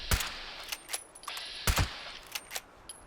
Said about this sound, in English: So the next shot with the Furious active.